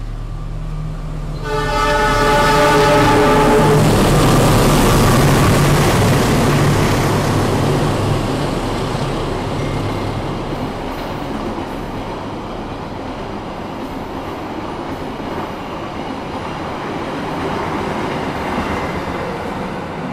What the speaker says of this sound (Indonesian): nampaknya juga bakal ada kereta yang melintas di jalur 3, kereta api Bima dari stasiun Surabaya Gubeng tujuan stasiun Gambir